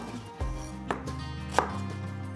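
A knife chops radish into squares on a board for kimchi stew, a few separate sharp thuds spaced irregularly, close and fairly quiet.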